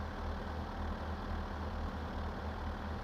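A car engine idles steadily in the game My Summer Car, a dense, even low rumble with a slight throbbing pulse throughout.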